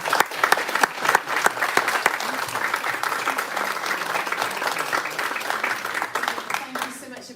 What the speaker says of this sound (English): Can I have a massive round of applause for our